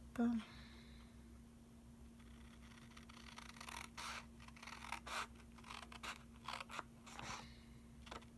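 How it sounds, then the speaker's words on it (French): Scissors snip through sheets of paper for a handmade notepad, a series of soft, close cutting crunches spread unevenly over the stretch, quiet and with no talking. "je vais tout simplement le couper au ciseau"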